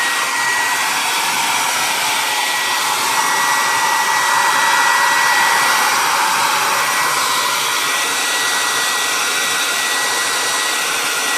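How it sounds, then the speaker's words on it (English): A hair dryer blows steadily on a shirt, a loud, even, close whirring roar that holds without pause the whole time. "here's the shirt before we start blow drying it"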